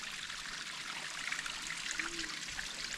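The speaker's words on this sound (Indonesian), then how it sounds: "Nah, ketemu sungai kecil. Air terjunnya mini." A small stream spills over a mini waterfall outdoors, giving a constant close trickling and splashing rush of water that holds steady throughout with no talk.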